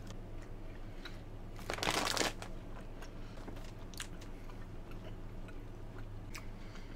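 Quiet close-up chewing of a chewy cola-flavoured Japanese gummy candy, with soft wet mouth sounds and a short burst of wrapper crinkling near the start.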